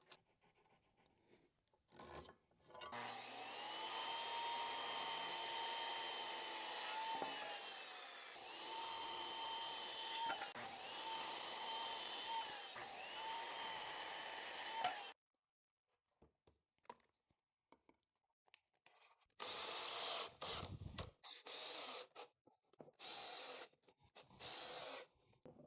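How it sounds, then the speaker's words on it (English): A handsaw rasps through a board, cutting legs to thirty inches for a simple workbench and sawhorse combination. The stroking is close and steady for about twelve seconds, then pauses, and two shorter bursts of cutting follow. "now we're gonna cut 4 legs at 30 inches."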